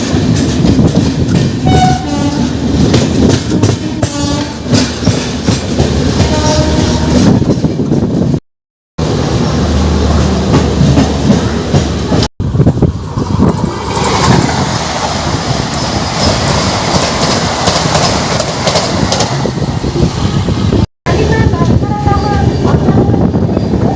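The Vivek Express runs loudly close by, its wagons rumbling with a rhythmic clickety-clack that continues under a few brief dropouts, with occasional horn-like tones.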